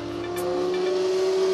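An MV Agusta Brutale naked motorcycle engine rated at 134 horsepower holds a steady, loud, close drone with a strong tonal whine that rises slightly in pitch, heard alone.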